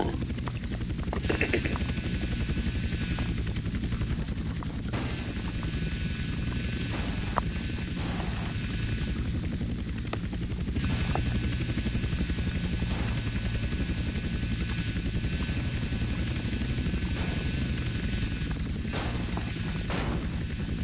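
Helicopter rotor and engine drone steadily throughout in Grand Theft Auto: San Andreas Definitive Edition, a loud continuous thrum with a few sharp impact-like bursts over it.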